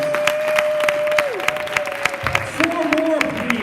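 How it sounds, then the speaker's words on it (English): Audience applause at an improv comedy show, a steady patter of clapping from a crowd with a sustained tone and voices running over it. "let's give a round of applause"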